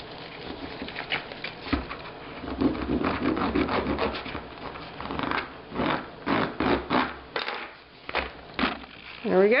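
A bone folder rubbed firmly over stab-bound paper pages, close and dry, making repeated rhythmic scraping strokes with short pauses between them and a faint voice in the background.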